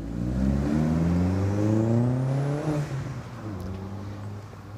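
Engine of a five-speed car running and revving, a loud close drone whose pitch climbs and then settles back to a steadier idle, with no one talking.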